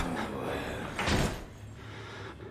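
A door closing in the horror video game Outlast, a single muffled thud with a brief swell of noise, heard over a low ambient hum.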